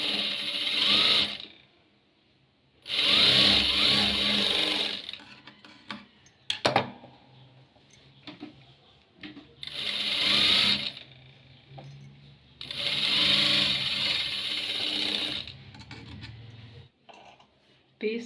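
Sewing machine stitching fabric pieces together for a puff sleeve, in loud close bursts of rapid running stitches separated by quieter pauses with handling clicks.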